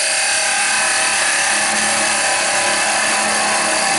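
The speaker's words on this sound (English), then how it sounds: "now I'm going to cut it back to material so that it come off the lathe nicely" Wood lathe cutting a dumpling rolling pin blank, a steady loud broadband hiss of the tool shearing spinning wood, continuous and close with no talking.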